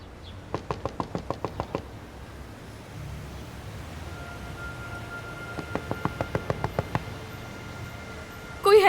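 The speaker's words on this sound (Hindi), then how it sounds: "दरवाजा बजाना छोड़ ही नहीं रही" Two bursts of rapid knocking on a door, each about eight to ten sharp raps in quick succession, separated by several seconds of quiet room noise, with a brief louder sound at the very end.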